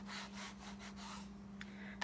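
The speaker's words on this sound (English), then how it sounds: "we're just going to take the memento pad and rub it all over the inside here" Memento ink pad rubbed over the inside of an embossing folder for a red cardstock card, making soft, rhythmic scuffing strokes close by, followed by two brief taps.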